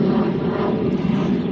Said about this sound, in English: And we have a plane. The plane, boss, the plane.